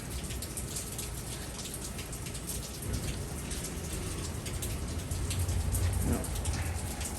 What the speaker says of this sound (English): It's still raining a bit.